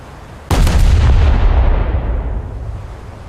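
Ship guns in a naval combat game fire on a light cruiser: one heavy, booming salvo lands suddenly and then rumbles and rolls away slowly over a few seconds, loud and close, with no talking.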